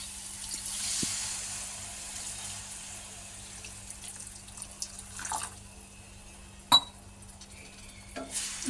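Water splashes and trickles into a pan of cooked potato curry over a low steady hum, with a few sharp metallic clinks and scrapes of utensils.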